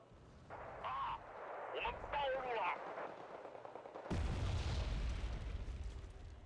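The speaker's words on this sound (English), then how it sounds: "Good mortar." Heavy mortar explosions in a tank video game thump and roll out low and loud, a big blast landing midway after lighter gunfire and crackling bursts, with some talk in the mix.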